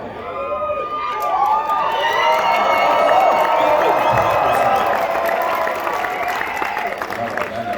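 A comedy show crowd roaring and cheering, loud whistles and whoops rising over continuous applause and shouting throughout.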